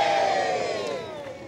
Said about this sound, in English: The crowd are in very good cheer.